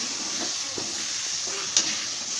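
A spoon stirs cumin powder, chilli and chicken masala into chicken pieces in a frying pan, giving soft scraping strokes over a steady oil sizzle and hiss, with no talking.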